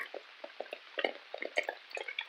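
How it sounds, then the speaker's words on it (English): Water drips down a rock wall in the rain, a rapid, irregular patter of close, distinct plinks and drops, fairly quiet and without talk. "the rock wall's dripping throughout its front face"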